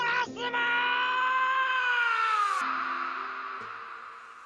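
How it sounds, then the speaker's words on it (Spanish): A Naruto character screams in despair, one long, loud, harmonic wail sustained for several seconds that dips in pitch and fades. "No le quedó otra que gritar con desesperación mientras Hidan le arrancaba la vida a su maestro ante sus ojos."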